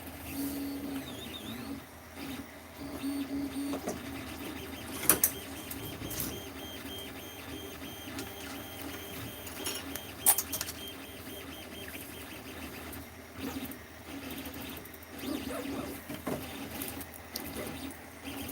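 A 3D printer printing a Benchy boat, with a faint, steady mechanical whir and soft stepping tones from its motors, plus a few small clicks, running alone at low level.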